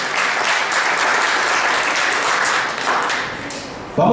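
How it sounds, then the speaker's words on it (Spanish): An audience applauds for the school police at a school maintenance day event in El Seibo, a dense steady clapping that fills the room, dips briefly near the end and swells again. "Un aplauso para la policía."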